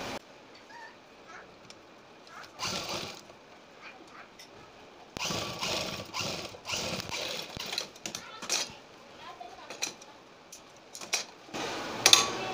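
A sewing machine stitches the back neck of a kurti in short mechanical bursts, with quiet handling sounds between the runs.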